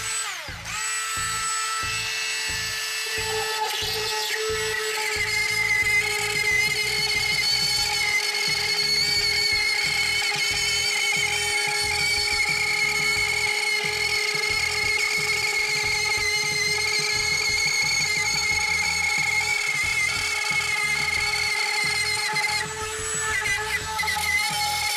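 A Ryobi 18V ONE+ speed saw rotary cutter bores a hole and runs around a circle, a loud steady high-pitched whine held close for the whole stretch with a slight rise in strain near the end.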